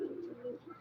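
A single soft, low pigeon coo rolls out from a nearby umbrella-style pigeon loft and fades quickly. The call is faint and sounds alone.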